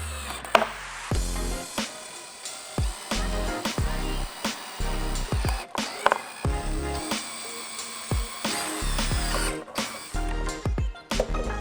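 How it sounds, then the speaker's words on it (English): Power drill with a 1/4 inch bit boring holes through a Toyota Tundra fuse box cover, heard as repeated short bursts of whirring with clicks between them, close and fairly loud with no talking. "we have our drill with our 1/4 inch drill bit. We're gonna go ahead, take our time, and get these all drilled out."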